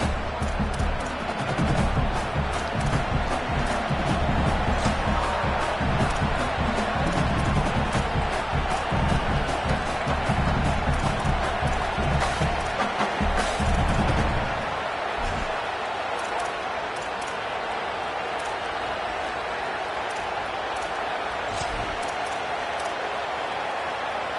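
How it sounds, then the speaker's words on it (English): A steady, dense stadium crowd roar in an NCAA football video game, loud and continuous for most of the stretch before easing, with a commentator's voice running over it. "The roar of the crowd trying to fuel this defense to keep them pinned in their own end."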